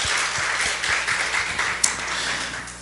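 A church congregation applauds together in a dense, continuous wash of clapping with some soft, rhythmic low thumps underneath, fairly loud and sustained throughout.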